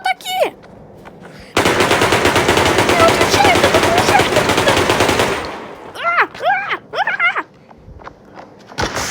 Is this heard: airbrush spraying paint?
no